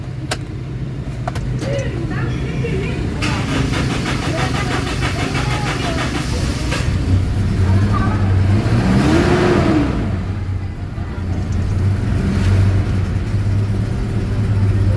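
A Toyota Innova diesel engine with a common rail system starts up in a workshop and settles into a steady idle. It is revved a few times in rising and falling swells, with background noise throughout.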